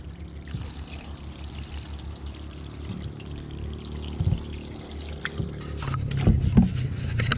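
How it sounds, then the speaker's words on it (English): Water poured over the sliding rear window of a 2008 Ford F150 pickup, a close trickling, splashing stream that runs throughout and grows louder with spattering bursts toward the end, with no voices. "when I pour water in it, it actually leaks down here"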